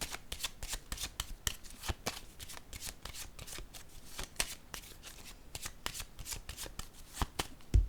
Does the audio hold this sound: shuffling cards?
yes